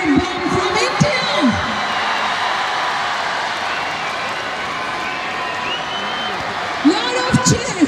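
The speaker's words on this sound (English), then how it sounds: "Lot of cheer." A large crowd roars and cheers continuously at a football award ceremony after the SAFF U-19 men's championship final between India and Bangladesh, with an announcer's amplified voice heard over the dense cheering at the start and end.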